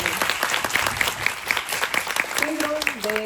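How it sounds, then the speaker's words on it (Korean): Applause from the audience at a film festival guest talk with actress Ando Sakura, a short burst of steady clapping with voices talking over it. "박수 부탁드릴게요"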